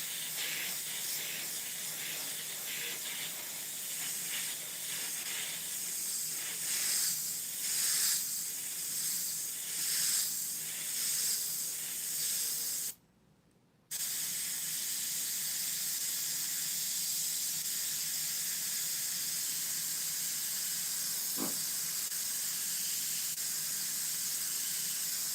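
An airbrush sprays India ink onto Bristol board in a steady, close airy hiss that breaks off for a moment partway through and then resumes at the same level, with no talking.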